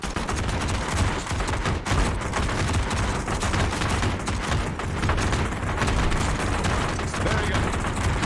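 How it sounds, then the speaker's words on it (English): Many guns in a video game firing into the air together make a dense, continuous roar of overlapping shots, a loud steady barrage with no gaps throughout. "that's literally all of these guns going off at once"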